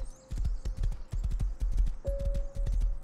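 Horse hooves while riding in the video game Rust, a rapid rhythmic clip-clop of close, moderately loud hoof beats in repeated clusters, with no talking.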